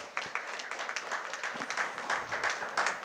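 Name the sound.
audience applause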